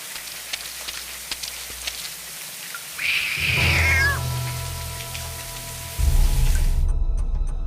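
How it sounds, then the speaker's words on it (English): In the Lost Horizon video game, a cat gives a single drawn-out, wavering meow, loud and close, over a steady patter of rain and a low rumble. "Just a mangy cat."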